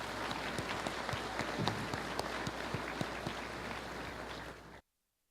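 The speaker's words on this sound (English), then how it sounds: "Let's give these future EHS graduates a round of applause." An audience at a high school graduation ceremony breaks into steady applause, a dense wash of many hands clapping at an even level for several seconds before cutting off abruptly.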